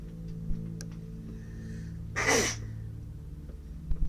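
A single sneeze bursts out for about half a second, fairly close, against a low steady hum with faint ticks, heard during play of the game Pathologic 2.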